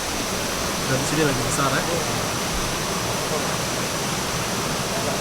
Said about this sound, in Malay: ada sungai yang mengalir dengan sangat jernih dekat sini ya